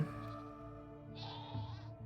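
Goat bleating in Minecraft, a drawn-out wavering tonal bleat that rises into a brighter, nasal second cry, clear and close over faint background.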